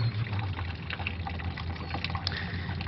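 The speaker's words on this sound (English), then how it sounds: "now I have to drain all of that dirty fluid out" Dirty coolant drains from the radiator of a 2002 Ford F150 in a steady, faint pouring trickle that runs unbroken throughout.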